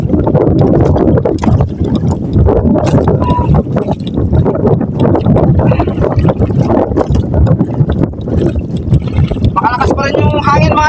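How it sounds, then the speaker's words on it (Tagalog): Strong wind blowing at the water makes loud, constant buffeting and rumbling against the microphone, with a voice heard briefly near the end. "Makalakas pa rin yung hangin mga idol."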